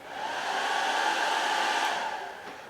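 An Atomstack X20 Pro laser engraver unit working on leather or wood gives off a steady airy whir with a faint rising-and-falling hiss, moderately quiet and close, with no voices.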